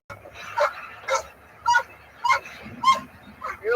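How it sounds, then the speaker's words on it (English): A puppy yips and whimpers in short repeated bursts, about six high-pitched cries spaced through the clip, close and fairly loud over a quiet background with no talk. "What a cute puppy!"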